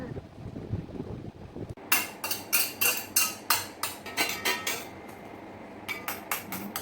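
Fried rice being scooped from a pan into a bowl: a run of sharp, rhythmic metallic scrapes and clinks of a spoon against cookware, close and loud, after a short stretch of low background noise.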